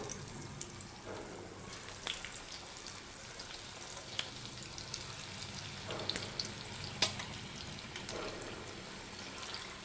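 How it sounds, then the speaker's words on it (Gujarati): Coriander fritters (kothimbir vadi) deep-fry in oil with a soft, steady bubbling sizzle and scattered small pops, fairly quiet and without talking. "આવી રીતે બીજી વડી પણ તળી લઈશું"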